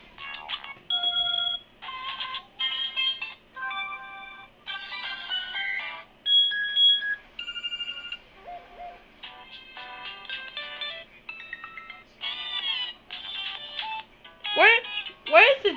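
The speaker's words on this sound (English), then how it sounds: "this is the phone ring I had before on my phone, my last phone" An old phone ringtone plays a quick melody of bright electronic beeps and tones in short phrases, fairly close and clear, ending with a couple of sliding chirps.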